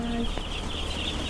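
Fowl on a duck farm give a brief burst of clucking and quacking calls close by, over a steady background of farmyard noise.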